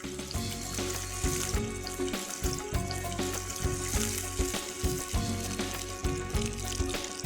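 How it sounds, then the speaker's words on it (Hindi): Full-fat milk poured into a pan of fried edible gum, giving a steady loud sizzle and bubbling hiss with a rushing liquid texture, continuous and close. "अभी हम 500 ml फुल फैट मिल्क इसमें ऐड करेंगे"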